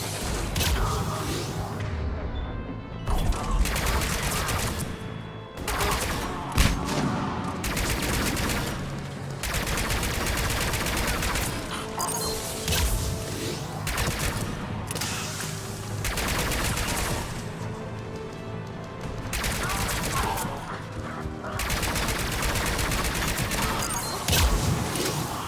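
Gunfire from Mass Effect 3 video game combat comes in loud bursts of rapid automatic shots and single blasts, separated by short pauses across a long firefight, with faint mechanical and game background sounds.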